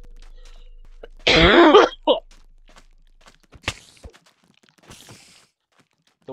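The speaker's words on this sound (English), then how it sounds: "The worst idea is doing it while coughing." A single harsh cough close to the microphone during a Minecraft gaming session, followed by faint clicks and soft scattered noises in an otherwise quiet room.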